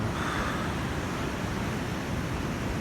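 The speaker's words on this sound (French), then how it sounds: "Il y a des vagues aujourd'hui quand même" Ocean waves roll onto the shore as a steady, even wash of surf, a continuous broadband roar with no distinct breaks and no voices.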